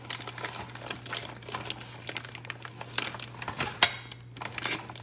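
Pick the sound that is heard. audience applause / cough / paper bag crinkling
paper bag crinkling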